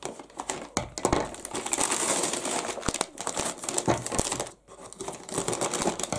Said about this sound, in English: let me cut the tape here